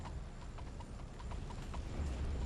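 Steady clopping of a horse demon's hooves at a walking pace in the video game Jade Empire, moderately loud over a low rumbling background, with a faint whinny-like tone.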